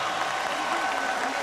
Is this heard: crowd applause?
yes